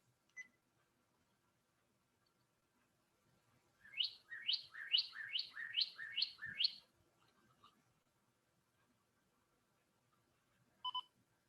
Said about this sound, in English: Another bird that we have that has a song is our northern cardinal.